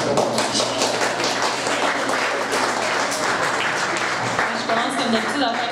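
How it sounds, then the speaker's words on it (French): Students applaud candidates at a university student association debate, a steady, fairly loud burst of clapping from a room full of people, with voices mixed in. "On peut les applaudir aussi."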